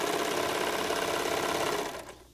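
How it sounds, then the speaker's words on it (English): Sewing machine stitching pieces of fabric together with a 3/8 seam allowance, a fast, steady mechanical whir that runs close and loud, then slows and stops near the end. "I just go to sew them together."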